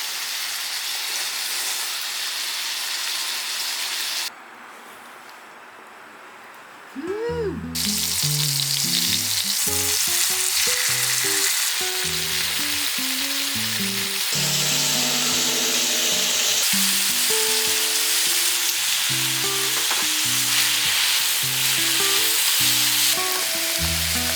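Pork belly and garlic sizzle in a pan at a country house, a dense, loud crackling hiss that drops briefly partway through, then returns with stirring and clinking sounds.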